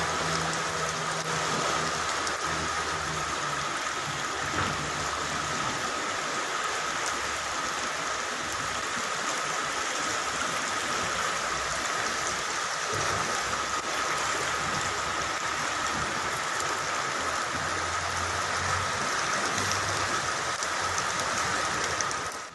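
Steady, dense rain roars without pause in Hyderabad, with a broad rushing wash of floodwater flowing through flooded streets nearby; no voices.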